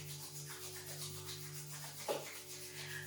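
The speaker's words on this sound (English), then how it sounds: "rub your hands into each other and create the warmth" Palms rubbed briskly together to build warmth during a gentle yoga flow, a soft continuous swishing friction with one brief louder stroke near the end, close and quiet over a faint steady room hum.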